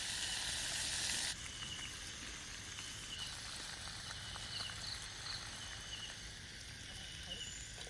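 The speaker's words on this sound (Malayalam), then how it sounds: "ഇനി നമ്മുടെ ചിക്കൻ എടുത്തിട്ട് എണ്ണയിലേക്കൊന്ന് ഇട്ട് കൊടുക്കാം." Whole masala-coated chicken frying in hot oil, with a steady broad sizzle and crackle after an initial louder burst, continuing evenly close by without speech.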